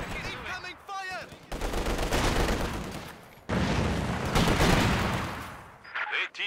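Bursts of machine-gun and rifle fire in a Company of Heroes 2 battle with Soviet Guard Rifle units, loud, sustained rattling in two long volleys, with brief voice lines before and after.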